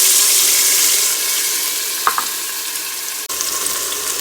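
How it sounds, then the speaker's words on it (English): Green onions sizzling in hot avocado oil in a heated pot, a bright, hissing fry that softens slightly after the first second, with a couple of small pops and a brief clink near the end, nobody talking. "So the pot is heated up now. I'm going to add the green onions."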